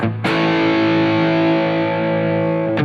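Electric guitar on the red channel of an amp with delay pedal added, a single chord struck and sustained with a rich, slightly gritty ring that fades slowly before another pick attack at the end.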